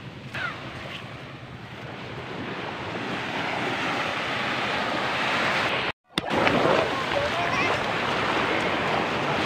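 Sea waves and surf roar steadily at close range, with wind buffeting the microphone. A brief dropout comes partway through, then the wash of water returns loud and broad.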